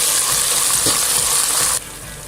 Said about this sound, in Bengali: আমি খুবই হাই ফ্লেমে আমার এই পেস্টো সসটা দিয়ে চিকেন আর মাশরুমটাকে খুব ভালো করে একটু ভুনা ভুনা করে ফেলবো